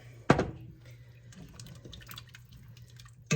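Water poured into a pot of clam chowder with potatoes and clam juice, a short splashy burst near the start followed by quieter liquid trickling and a faint low hum.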